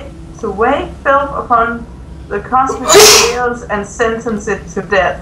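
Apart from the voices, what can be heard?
sneeze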